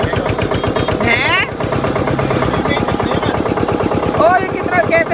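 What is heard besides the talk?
new tractor engine running while being driven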